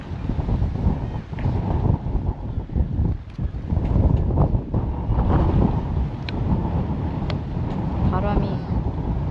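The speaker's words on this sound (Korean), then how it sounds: "불어서 시원하긴 한데 또 바람 소리 많이 들어가겠다" Wind buffets the microphone on a beach in Sokcho with heavy low rumbling gusts, rising and falling while a person talks over the noise.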